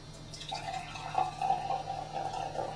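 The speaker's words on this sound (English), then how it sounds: "I'm going to angle my lid over to the side a little bit. And I'm going to get ready to pour here." Brewed Gold Dancong tea pours from a tilted lidded vessel in a thin, steady trickle with small splashes and drips, close and quiet.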